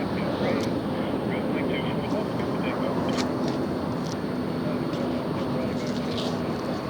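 A jet airliner rolls for takeoff at Los Angeles International Airport, a steady broadband engine roar filling the scene at moderate distance, constant throughout with no clear build or fade.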